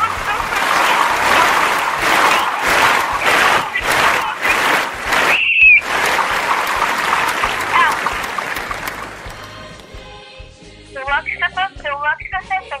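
A studio audience at a Latvian radio show claps in loud, rhythmic bursts with cheering, a short sharp whistle cutting in midway, then the applause thins and fades.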